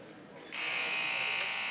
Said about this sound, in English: And that is the buzzer. So the time is up.